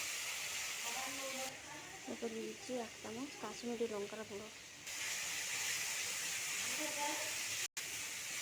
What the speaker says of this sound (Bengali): মশলাটাকে ভালো করে আমি ভেজে নেব